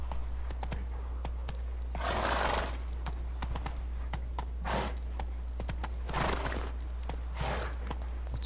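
Roach the horse gallops through The Witcher 3 with rhythmic clip-clop hoofbeats over a steady low hum, broken by several louder bursts of hooves and snorts.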